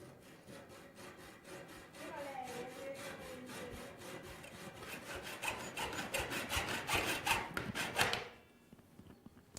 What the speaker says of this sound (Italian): Quindi tagliamo un altro profilo con un seghetto da ferro